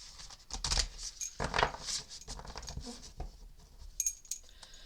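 Papery shuffling and soft riffling bursts of tarot cards being mixed by hand, close up, with a few light taps and clicks.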